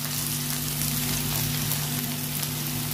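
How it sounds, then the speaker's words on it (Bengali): Cabbage pakoras deep frying in oil give a steady, dense, close sizzle, an even rain-like hiss that holds unchanged from start to finish. "এবার আমি একটু উল্টে পাল্টে আগে একটু ভেজে নেবো"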